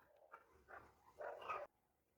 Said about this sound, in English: I apologize for the dogs in the background.